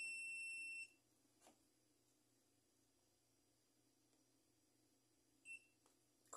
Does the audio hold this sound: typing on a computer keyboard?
no